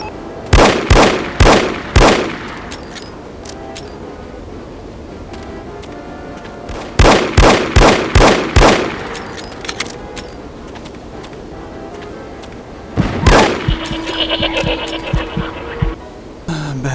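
Gunfire in the spy shooter No One Lives Forever: loud bursts of four or five rapid shots come in three separate volleys with quieter stretches between them, and the last volley trails into a lingering ringing tone.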